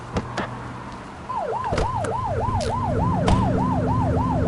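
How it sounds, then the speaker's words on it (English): A video game police car siren wails up and down rapidly and loudly over a rumbling engine, joined by a few sharp clicks. "Get behind them and flip the siren and make them pull over."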